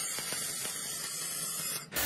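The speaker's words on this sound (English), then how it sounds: "Here it is again, the welder's torch." A welder's torch works on steel with a steady, close, broadband hissing roar that lasts about two seconds before cutting off abruptly.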